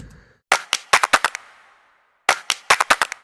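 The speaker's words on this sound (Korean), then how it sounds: "벌스에 사용된 이제 클랩 사운드들을 좀 보시면 약간 좀 더 저지 클럽스럽게 만들어 봤거든요" Sharp, punchy Jersey club clap samples from a remix fire in quick bursts of rapid repeated claps, two clusters separated by a short silence, loud and dry.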